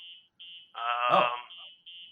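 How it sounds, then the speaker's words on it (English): An electronic alarm tone beeps on and off in a steady pattern, interrupted once by a louder, wavering droning tone. "there's some alarms going off"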